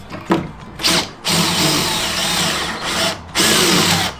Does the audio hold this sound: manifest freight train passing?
no